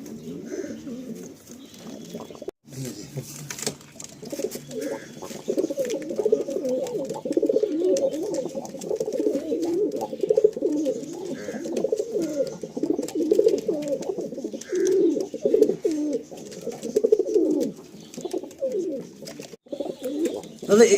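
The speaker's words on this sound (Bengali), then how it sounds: "খুব অ্যাগ্রেসিভ পায়রাগুলো।" Andhra pigeons in a loft coo continuously in a dense, close, murmuring chorus, with soft wing flutters and occasional faint voices in the background.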